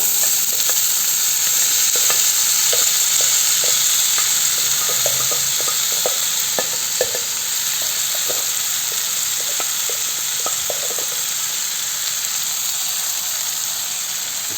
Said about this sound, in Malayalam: ഇതിലൊന്ന് ഇളക്കി യോജിപ്പിച്ച് കൊടുക്കാം